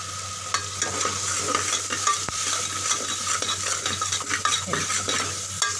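A spice mix of turmeric, red chili, coriander and amchur powder is stirred in hot oil: a dense, continuous sizzle with brisk scraping and clinking strokes of the spoon, close up and fairly loud, no talking.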